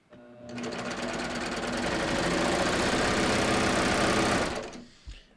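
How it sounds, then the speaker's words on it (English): A sewing machine runs in one continuous fast burst of rapid, even stitching as it chains off past the fabric, close and moderately loud, winding up and then stopping with a small clunk. "Then I'm going to put my presser foot back down and I'm going to chain off"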